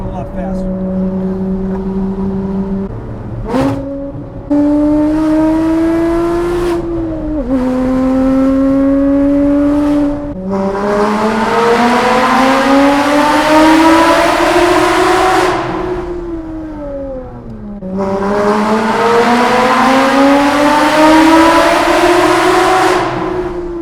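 Porsche GT4 sports car engine and exhaust roaring on the Angeles Crest Highway in the mountains, loud and close, with repeated rising revs through the gears, a lift-off and renewed hard acceleration, while people talk under the noise.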